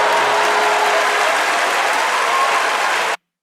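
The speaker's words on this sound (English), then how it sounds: "Round of applause for the big boys." A dense burst of applause and cheering from a podcast audience, loud and close, sustaining for about three seconds before cutting off abruptly, with no talking over it.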